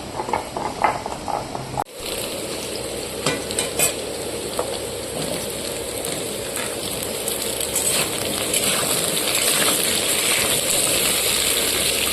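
Potato and pumpkin fry in a pan for chhyachra, a steady loud sizzle that starts after a sharp clatter near the beginning, with occasional scrapes of stirring and no talking.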